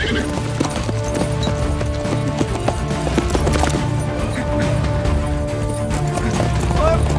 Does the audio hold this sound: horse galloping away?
yes